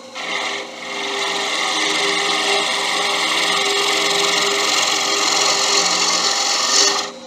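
A 1/2 inch ball gouge cuts into wood spinning on a lathe, shaping a thin stem on a wooden pipe, making a steady, close scraping hiss with a slight tonal whine that holds evenly throughout, with no speech.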